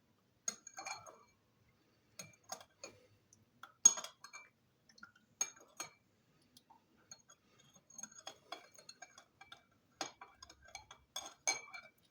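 A spoon stirs sugar into salep, making faint, light clinks and scrapes against the pot in irregular clusters over several seconds. It is quiet and close, with no voices.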